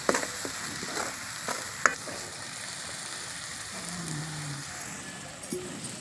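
Dafal seeds fry in a pan for a vegetable curry, giving a steady close sizzle with occasional stirring scrapes and clicks of a spoon against the pan.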